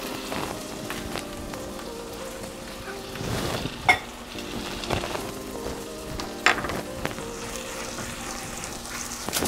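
Vegan chorizo sizzles and fries steadily in a pan, a continuous crackling hiss with occasional sharper pops and stirring clatters, fairly close and with no talk over it.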